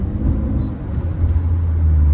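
Cars passing on a Dubai street near Al Seef, a steady low traffic rumble that swells louder toward the end as a vehicle draws close.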